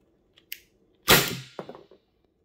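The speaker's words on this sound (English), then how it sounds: "There is a 5-shot shot string with Byrna HD with the screw turned all the way up and the MercyLessLethal 12-gram adapter" A Byrna HD launcher with a MercyLessLethal 12-gram adapter, screw turned all the way up, firing a 3-gram Byrna Kinetic projectile about a yard from a chronograph: one sharp, close pop after a faint click, with brief rattling after.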